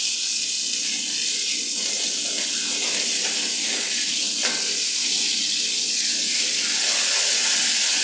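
Burgers sizzling in a frying pan, a steady, loud hiss of hot fat with faint crackles running unbroken throughout.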